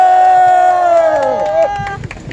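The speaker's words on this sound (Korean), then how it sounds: "큰 박수 부탁드리겠습니다." A crowd cheers at an outdoor candlelight protest rally in Democracy Square, Gwangju, with a loud drawn-out collective shout that slides downward and fades into scattered noise and a few claps.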